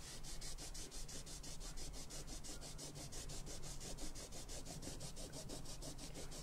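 Rough baby wipe rubbed over paint on a mixed media sea picture, a steady rhythmic scrubbing of quick back-and-forth strokes, close and continuous without pause.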